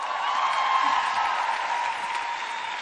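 Steady, dense applause from an audience welcoming a speaker, continuous and fairly loud for the whole stretch, with no voices breaking through.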